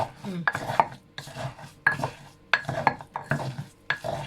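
Garlic-laden food stirred in a pot, a spoon scraping and mixing in repeated bursts roughly every half second to second, close and fairly quiet with faint sizzle and clinks of metal.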